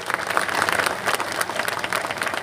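A large crowd at a Buddhist convention in Gorakhpur breaks into dense, continuous applause, a loud rushing clatter of many hands throughout.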